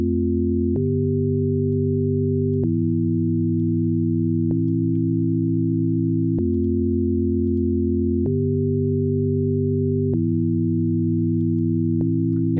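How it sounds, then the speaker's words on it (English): Pure, smooth synthesizer sine tones in Ableton Live 12.1, holding a sequence of low chords that change every couple of seconds, steady and clean with no other sounds. "now we've just got this sine wave on the pressure of those notes"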